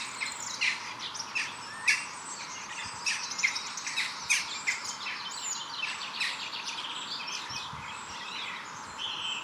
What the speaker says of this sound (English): The smaller cousin to the blackbird, the song thrush, is also seen this time of year, with a mellowed out song of its own.